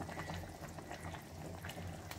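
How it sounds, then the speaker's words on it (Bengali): A pot of katla fish curry bubbles at a steady boil, a faint, continuous simmering burble with no voices. "তরকারিটা বড় ফুটে গেছে"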